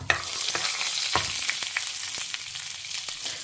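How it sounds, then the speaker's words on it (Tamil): Mustard seeds and urad dal frying in hot oil in a home kitchen, a steady crackling sizzle with sharp little pops spattering throughout, heard alone without speech. "பொரியட்டும். பருப்பு செவக்க ஆரம்பிச்சிருக்கு."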